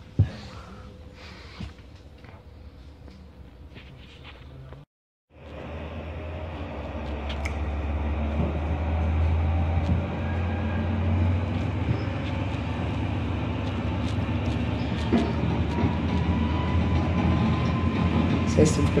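A Regionova passenger train pulls in at a Czech station, its loud low engine rumble building steadily and holding after a brief break, with faint voices under it.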